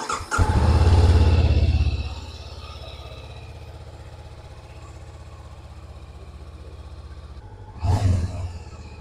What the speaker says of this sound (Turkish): Motorumuzu çalıştıralım.